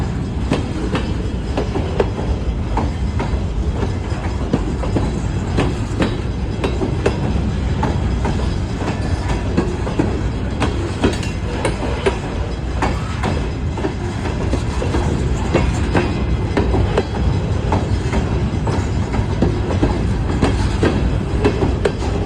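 An Iowa Interstate freight train passes close by, heading toward the Quad Cities. It makes a loud, continuous rumble with steady clickety-clack from the wheels that lasts throughout, with no voices.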